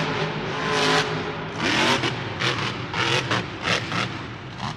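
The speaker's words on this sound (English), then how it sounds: "Definitely an ailing motor in the Kraken truck." The Kraken monster truck's failing engine roars and surges at a Monster Jam show in St. Louis, loud rough revving in repeated bursts with crowd and arena noise around it.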